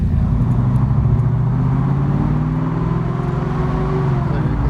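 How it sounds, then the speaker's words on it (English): Shelby car with a big cam and FiTech dual quad fuel injection, its engine rumbling loudly and up close with a deep lopey burble, the pitch rising gently as it pulls away cleanly. "So you can see the car drives just like a baby. You know, pulls really clean."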